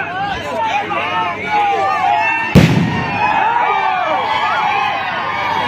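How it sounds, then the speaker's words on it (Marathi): Fireworks burst with a single sharp bang in the sky above a state-level kabaddi tournament, heard over loud wavering shehnai music and crowd noise. "धमाका आसमान में भी"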